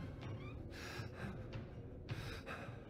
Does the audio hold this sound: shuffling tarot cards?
no